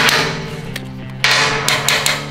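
Several sharp metallic taps of a hammer on a metal cook chamber door ring out in quick succession, close and loud, with bright resonant overtones after each strike.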